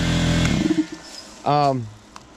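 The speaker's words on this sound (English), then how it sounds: "We got the air compressor going." A portable air compressor runs with a loud, low, buzzing motor hum, then cuts off abruptly, leaving a quieter background where a voice briefly speaks.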